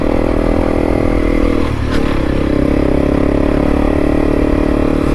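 Honda CRF300L motorcycle riding over big rocks on a dusty trail, with a steady loud engine drone, a brief clattering jolt as the bike bucks, and continuous rattle and scrape throughout.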